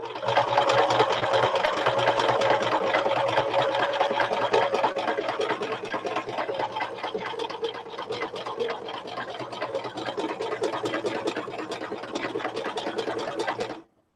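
A sewing machine stitches across fabric collage work for a shabby chic clutch. The motor whirs in a fast, continuous buzz, close and steady throughout, then stops at the very end.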